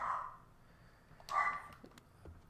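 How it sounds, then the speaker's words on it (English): During a 7 Days to Die game, a dog barks in two short bursts, the second louder, with a faint yip or whimper after and quiet background between. "That dog needs to stop."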